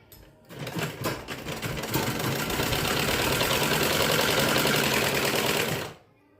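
Sewing machine stitching an embroidered blouse, a steady close, loud mechanical whirring run that starts after a short pause, holds for about five seconds, then stops abruptly.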